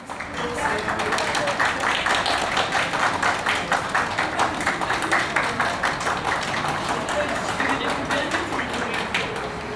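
Students at a factory entrance greet women workers with applause, a rhythmic, steady clapping from a group, moderately loud and continuous, with some voices mixed in.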